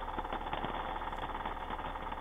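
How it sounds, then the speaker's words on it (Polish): A motorcycle engine idles as heard through a Cardo motorcycle intercom, a steady, band-limited mechanical drone with a faint rhythmic pulse, quiet and continuous throughout. "ja słyszę motocykl w tle"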